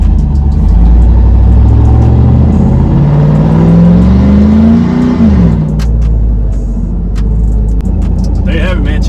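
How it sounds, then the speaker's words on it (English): A Chevrolet Silverado single cab with a 5.3 V8 runs loud and close, revving up in a rising sweep then dropping back to a rumbling idle, with sharp pops crackling from the exhaust near the end. "Not sure if you guys can hear those pops"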